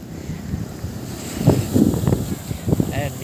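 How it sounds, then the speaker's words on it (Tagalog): Choppy sea waves roll in at the seaside of Naga, Cebu, with surges of surf breaking over a steady rush of wind buffeting the microphone. "Ayan, medyo maalon"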